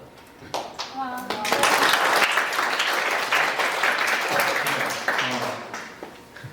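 A church congregation breaks into loud, sustained applause that fills most of the moment, with scattered voices and someone speaking under the clapping.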